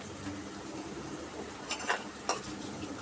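Onion fries in a pan for a moong dal dish with meat, a quiet steady sizzle broken by a couple of short scraping stirs of the utensil.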